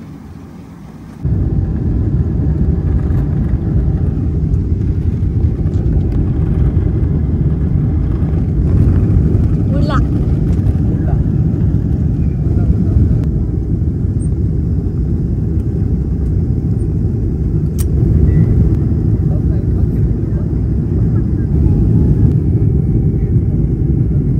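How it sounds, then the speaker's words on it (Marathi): An airplane on its takeoff run sends out a loud, steady low jet roar that starts abruptly after a quieter cabin moment and holds strong and continuous, with no speech. "आता प्लेन आपला फ्लाय करेल बघ"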